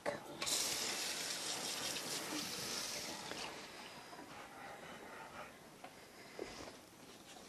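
Tap water runs steadily into a sink while a Border Collie is rinsed during a full groom, a constant close splashing wash with small splashes near the end.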